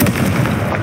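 Confringo, the explosive spell in Hogwarts Legacy, goes off as a loud, brief crackling blast of bursting pops.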